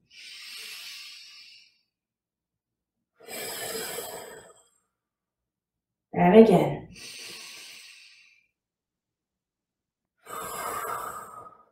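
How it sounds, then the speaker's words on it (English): Slow, deep breaths during a standing Pilates session, each inhale and exhale drawn out and airy, spaced by pauses, with an instructor speaking briefly between them. "we're just going to do some nice deep breaths into our hands here."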